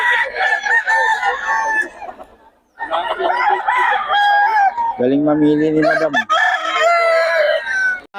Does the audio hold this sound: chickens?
yes